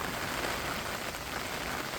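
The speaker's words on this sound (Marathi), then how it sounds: "आता पाऊस पडतो आहे" Steady rain pours down outdoors, a dense, even hiss of drops with no breaks, fairly loud and close throughout.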